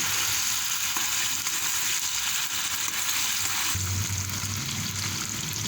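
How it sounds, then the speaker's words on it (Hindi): Ginger garlic paste frying in a karahi with chicken, giving a steady, loud, close sizzle throughout, with a brief dip and a heavier bubbling crackle near the end as the paste hits the hot oil. "अब ये अदरक लहसुन का पेस्ट डाल दूँगी 2 चम्मच भरकर।"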